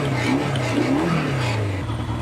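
A 1979 Kawasaki KZ650SR motorcycle engine revving up close, its loud continuous drone rising and falling in pitch through a couple of throttle blips with no talk over it.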